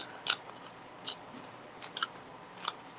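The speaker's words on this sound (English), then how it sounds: "I'm just ripping. I actually end up with 2 pieces." Paper torn by hand for card making: four short, quiet tearing rips spaced across a few seconds, each a brief crisp burst over low room hiss, with no talking.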